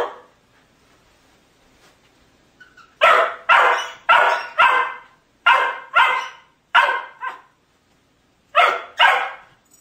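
A dog barks repeatedly in short, loud bursts, close by, with brief pauses between groups of barks.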